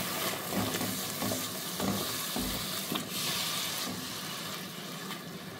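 A spoon stirs sugar into a sizzling Chicken Manchurian gravy in a pan, with repeated scraping strokes over a constant frying hiss and no voices.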